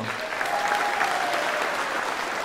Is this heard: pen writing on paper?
no